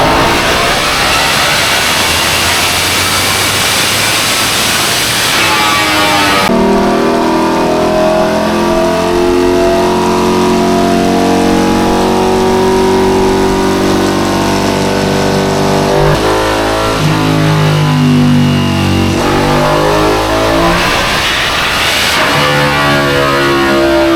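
A Ducati V4 Panigale SP2 motorcycle engine revs hard on a dyno after air filter and exhaust work, a loud sustained roar climbing and holding through several long pulls, with brief drops between runs.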